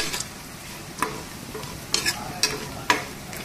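Spatula stirring in a hot pan as something fries lightly before grated coconut goes in for a coconut sweet; a low steady sizzle with a few sharp scraping strokes spaced about half a second to a second apart.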